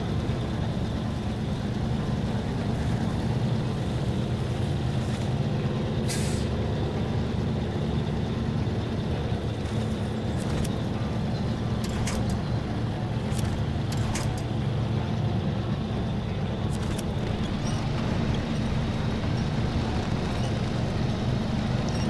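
Truck tires spinning with little traction in SnowRunner, a steady loud engine drone with low rumbling wheel churn throughout, and no talk over it.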